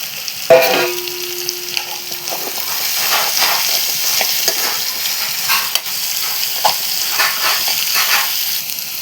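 Drumstick, onion and carrot sautéing for sambar, with a steady close sizzle and intermittent stirring scrapes against the pan throughout, opening with a brief clang.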